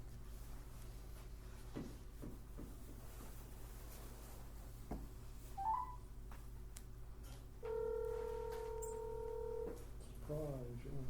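A telephone is dialed in a county board of commissioners meeting room, with a short series of keypad tones followed by a steady tone. People talk quietly in the background.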